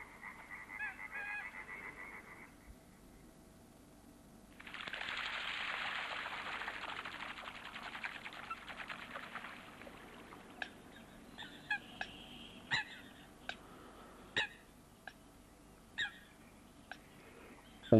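Eurasian coots calling on Lake Méziaa, a burst of dense honking and squawking followed by several short sharp single calls over faint outdoor background.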